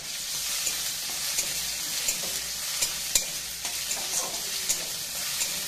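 Garlic and ginger sizzle steadily in a frying pan while a utensil stirs them, giving a dense hiss punctuated by scattered light scraping clicks, close and moderately loud with no talking.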